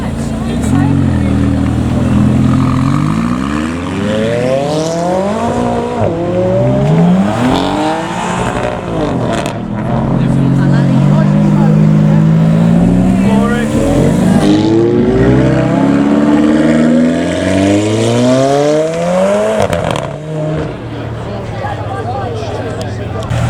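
Supercars at a car show accelerating past in turn, each producing loud engine revs with rising and falling pitch sweeps, heard amid steady crowd noise and talking.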